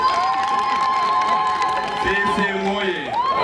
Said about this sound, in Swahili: Makofi mengi kwake.